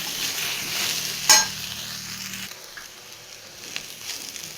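Okra for bendekayi gojju cooks in hot oil, a steady close sizzle with one sharp clatter of a stirring spoon early on, then a softer continuous frying hiss.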